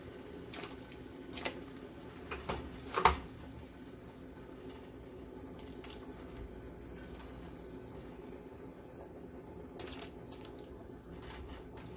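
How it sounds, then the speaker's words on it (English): Pieces of oxtail go into a pot of boiling water, a soft, steady watery bubbling with a few brief splashes and knocks, quiet and close. "the water is boiling, so let's put this oxtail in here carefully"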